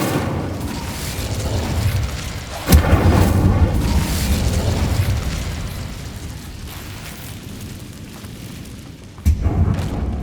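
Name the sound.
Incendio fire spell explosion in video game Hogwarts Legacy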